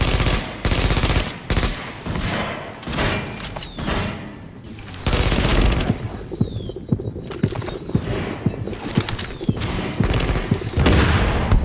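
Bursts of automatic gunfire from The Division, a JTF takeover firefight, with repeated loud volleys and short gaps between them, dense rattling rounds, and bright pinging ricochet-like streaks throughout.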